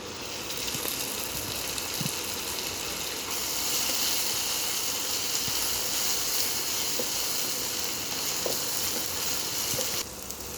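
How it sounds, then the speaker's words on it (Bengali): Tomato frying in a covered pan gives a steady, dense sizzling hiss that holds evenly throughout, with occasional faint pops and clicks. "টমেটোটা দিয়ে একটু নাড়াচাড়া করে ভাজা ভাজা হয়ে এলে"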